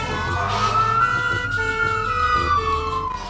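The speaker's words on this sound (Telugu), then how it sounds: "చూడండి, అంబులెన్స్ అక్కడ వస్తుంది." A cartoon ambulance siren wails with a rising and falling tone, steady and fairly close, with no talk over it.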